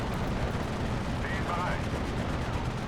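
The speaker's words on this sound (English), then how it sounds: "MG-34 doing a good job of laying fire down on those guards in the back." MG-34 machine gun fire in the video game Steel Division 2, a dense continuous rattle of distant battle noise under someone talking.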